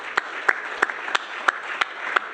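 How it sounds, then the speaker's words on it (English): Scattered applause from a conference audience at a smart water and wastewater panel, with sparse distinct claps at a steady pace, fairly faint and distant in the room. "round of applause for the panel"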